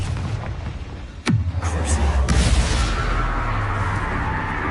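A Confringo fire-blast spell explodes in the Hogwarts Legacy video game with a sudden deep boom, followed by a sustained rumbling, crackling wash of blast noise that stays loud to the end.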